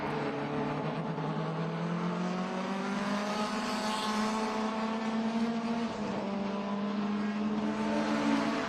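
Race cars drafting down the long back straight at Portland International Raceway during the SpeedTour race, one BMW among them, make a loud, steady engine drone with rising and falling pitch as cars hold speed, with no talking heard.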